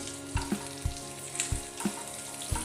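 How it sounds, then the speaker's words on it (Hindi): Onions frying over a low flame in a kadhai for kadhai paneer, giving a soft steady sizzle with a few regular louder stirring knocks close by. No one speaks. "अब डाल देते हैं प्याज, इनको भी फ्राई कर लेते हैं"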